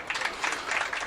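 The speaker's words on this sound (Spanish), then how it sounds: "Entonces yo creo que merece un aplauso," Audience applause after a talk on political cartooning and caricature, a brief burst of many hands clapping at moderate loudness in an indoor hall.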